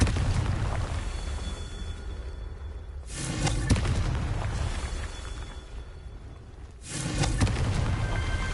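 Confringo spell explosions in a Harry Potter game, two loud, broad blasts a few seconds apart that burst over a steady rumbling magical background.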